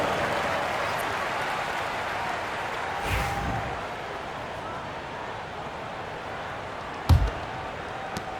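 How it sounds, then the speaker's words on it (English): Steady crowd roar and applause fill an NBA 2K25 basketball arena, a constant broadband wash with a brief louder thump near the end. "Give them a round of applause."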